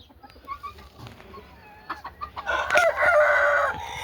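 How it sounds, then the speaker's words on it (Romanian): Bantam roosters and hens cluck softly at first, then a rooster lets out a loud, close crow near the end, with scattered clucks and rustling around it. "Cam aceștia sunt și găinile mele, cocoșei pitici."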